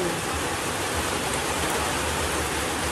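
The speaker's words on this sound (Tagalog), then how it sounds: "Ulan na naman." Steady, dense rain falls without a break, a constant hiss of drops hitting surfaces nearby, with no voices.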